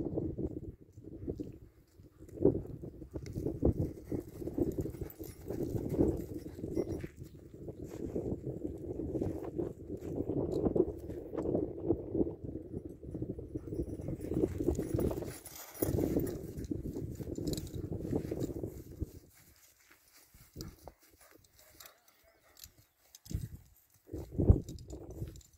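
An unregistered criollo horse walks along, its hooves clip-clopping in a steady, fairly faint rhythm under wind noise, before the steps thin out near the end.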